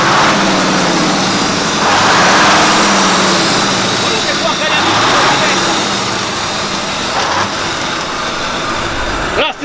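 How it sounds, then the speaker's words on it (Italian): An old IVECO 190 truck engine roars and revs up in surges, heavy and close, with a voice talking over it. "Oh Roberto, ci dai una sgasata, fai sentire la potenza."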